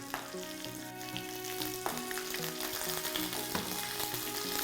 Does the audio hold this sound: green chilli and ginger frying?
yes